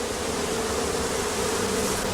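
Bees buzzing steadily around a traditional straw bee skep hive at dusk, a close, continuous drone with a low hum running through the whole stretch and no voices.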